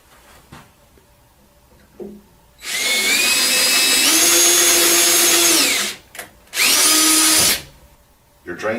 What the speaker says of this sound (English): we're going to use a 1/4 inch drill bit to drill a hole through here